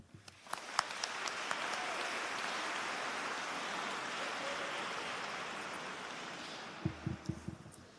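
A graduation ceremony audience claps together, swelling quickly into sustained, even applause from a large crowd heard from a distance, then thinning into a few scattered louder claps near the end.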